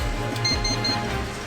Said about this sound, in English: That's the alarm for your chicken